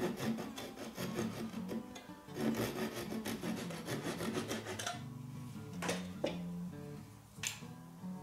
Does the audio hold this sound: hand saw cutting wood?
yes